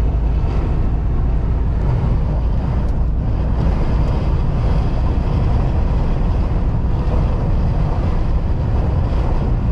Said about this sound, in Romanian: Aoleu, ce bate vântul!